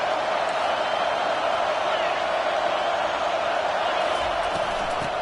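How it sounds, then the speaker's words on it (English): Hostile home crowd at a college football game roaring continuously, a dense, loud wall of crowd noise with no breaks. "This crowd trying to make life miserable for this offense."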